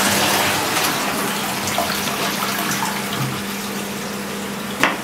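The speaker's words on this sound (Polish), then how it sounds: "Spłukiwanie ręczne, proszę bardzo," Manual flush of a toilet, a steady broadband rush of water running for several seconds at close range, with a faint hum and a small clunk near the end.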